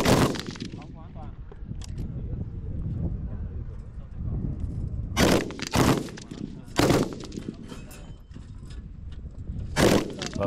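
Several sharp bursts of automatic gunfire from an AK submachine gun crack out in short volleys from a distance at a military shooting competition, spaced irregularly over a steady outdoor rumble.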